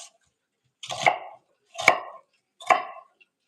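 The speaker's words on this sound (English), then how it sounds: "And then you finely, chop." A knife chops through an onion on a cutting board in three crisp, evenly spaced strikes, close and distinct with silence between them.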